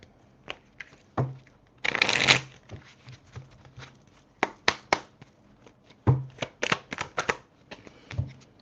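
A deck of playing cards is shuffled and handled close by, with a burst of riffling followed by scattered sharp taps and snaps of cards being placed and squared, no talking.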